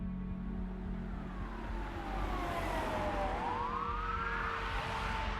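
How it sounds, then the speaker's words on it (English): Police sirens wail and sweep in pitch as emergency vehicles converge on a quiet residential street, the tones rising and crossing over a steady low rumble of engines and traffic, fairly loud and close throughout. "a fleet of police cars, fire trucks, and ambulances descended on this quiet residential street"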